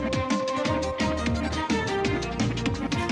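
A drum and bass track run through Vintage Chorus and Magic Dice effects plays continuously, with dense, steady beats and busy melodic layers at an even, fairly loud level throughout.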